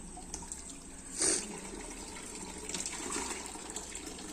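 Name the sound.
water running from a tap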